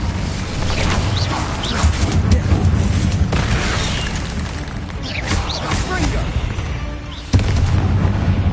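The Incendio fire spell cast in the video game Hogwarts Legacy: a loud, booming burst of flame over a dense layer of game sound, with speaking voices mixed in and a sharp cut near the end.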